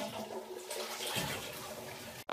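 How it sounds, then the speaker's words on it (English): A toilet flush, a rushing swirl of water that builds after a short pause and drains steadily at moderate volume, close by and indoors, ending with an abrupt loud cut. "Please make sure it's a courtesy flush"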